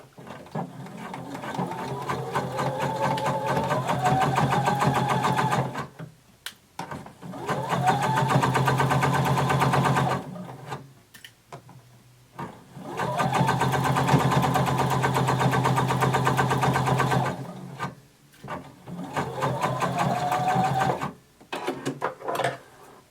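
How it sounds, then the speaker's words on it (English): Sewing machine running a 5/8-inch seam down a bodice sleeve, four long steady bursts of stitching separated by short pauses, close and fairly loud with no talking. "we're going to sew 5/8 of an inch seam allowance all the way down"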